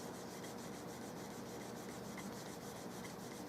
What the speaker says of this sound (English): I'm buffing it down because high gloss plasticky finishes just don't sit well with me